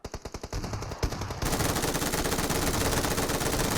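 Rapid automatic gunfire from the mobile battle royale game PUBG Mobile, a short burst of distinct shots followed by a dense, sustained loud volley with no pauses.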